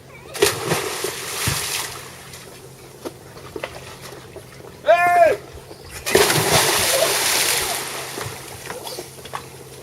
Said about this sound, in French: nous allons voir ce qui se passe quand on plonge ce corps solide dans ce liquide